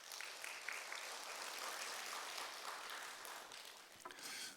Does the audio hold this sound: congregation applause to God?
yes